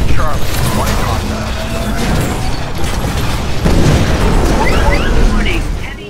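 Gunfire in the video game Titanfall, a steady rattle of shots and explosive bursts under someone talking, with the fire continuing loud throughout.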